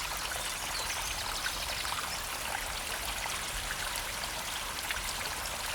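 A river in the South Downs, running low after a hot summer, flows with a steady soft trickling hiss, gentle and continuous throughout with no voices.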